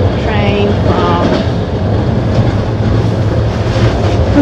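Second class passenger train running from Bucharest to Brasov in Romania, a steady loud rumble of wheels and carriage noise filling the whole stretch, with a voice briefly audible over it.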